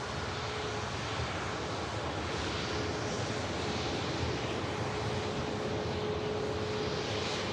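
An Icelandair Boeing 737 MAX airliner bound for Reykjavik passes at Manchester Airport with a sustained, even engine roar and faint whine, rumbling steadily for several seconds with no talk.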